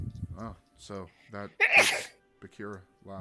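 One sharp, loud sneeze bursts out in the middle of a conversation, with people talking before and after it.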